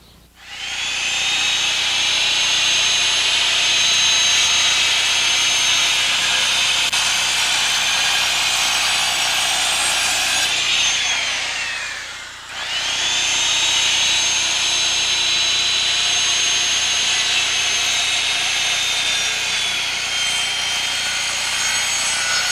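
A power saw cuts a wooden deck joist in two long, steady, loud high-pitched whines, dropping away briefly midway before the second cut continues to the end.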